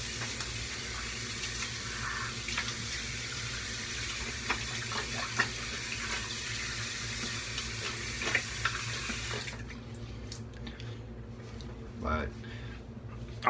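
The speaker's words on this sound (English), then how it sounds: "Let me rinse off." A tap runs steadily as water rinses off lather during a straight razor shave, a close, continuous splashing rush. It cuts off abruptly near the end, leaving quieter room sound with a low voice.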